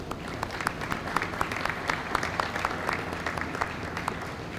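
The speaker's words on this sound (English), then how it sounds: "a round of applause to my support staff" Audience at a school propane bus roll-out event applauds with scattered, moderately distant clapping that continues steadily.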